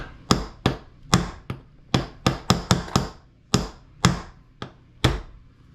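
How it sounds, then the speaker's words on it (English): A hammer taps body pins into an airsoft gun's upper assembly, giving about a dozen crisp, close knocks in uneven groups, some quick pairs and some single strikes. "get a hammer."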